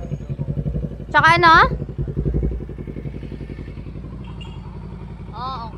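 A Kawasaki Z650 motorcycle with its backfire removed revs in short, throaty bursts over a steady idle, close by, while someone talks over it.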